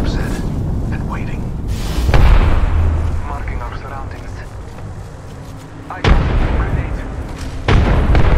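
Gunfire in Apex Legends: loud bursts of shots crack out in a few sharp clusters over a steady game backdrop, with a voice heard between them.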